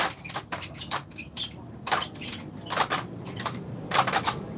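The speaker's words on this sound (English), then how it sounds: "You can hear that telltale creaking, creak, creaking." Ratchet straps being tightened on a wooden rope bed at a medieval encampment, producing close, sharp squeaks and creaks in repeated short bursts with brief pauses between them.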